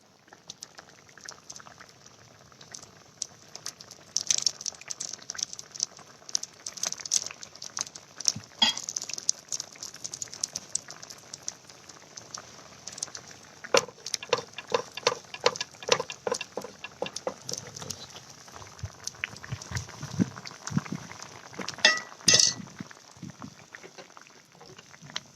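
Bengal gram and coriander pancake batter cooks in a hot pan, giving a soft, irregular crackling sizzle with scattered pops and bubbling that rise and fall throughout, fairly quiet and with no talk.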